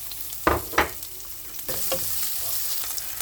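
Garlic and onion sauté in hot oil in a pan for chicken adobo in coconut milk, with a steady sizzle broken by a few sharp scraping stirs of a spatula close by.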